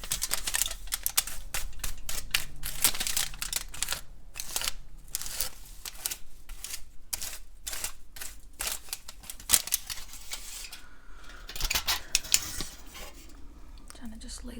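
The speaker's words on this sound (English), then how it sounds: "Trying to just lay the foils down gently, make sure they don't like smudge the color too bad." Hair highlighting foils crinkle and rustle as they are laid down, close and crisp with soft tapping and folding sounds in an intimate salon setting, accompanied by occasional whispering.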